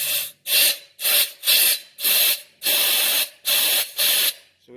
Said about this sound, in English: Go ahead and grab our little air hose here.